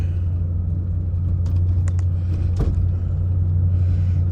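A 1998 Land Rover Defender 90 50th Anniversary engine running near and loud, a steady deep rumble with a few faint clicks and a brief rise where a gear change would come through the gearbox.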